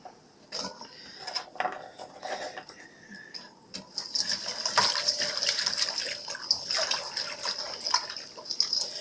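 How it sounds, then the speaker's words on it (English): Garlic scapes rinsed under running tap water at a sink, a splashing, hissing stream with clattering drips and handling noises, growing fuller and steadier midway. "And now I'm going to take the rest and rinse these off."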